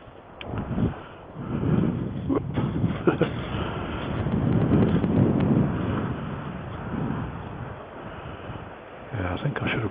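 Strong wind gusts lingering after a storm roar and buffet steadily across the microphone, a continuous low rushing rumble that swells and eases with no clear pauses.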